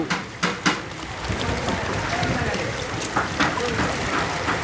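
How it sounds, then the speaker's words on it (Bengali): Floodwater in a flooded Mirpur street surges and sloshes during a cyclone, with a few sharp splashes early on and then a continuous rushing wash of water, close by, with voices nearby. "ঢেউ আসতেছে ঢেউ"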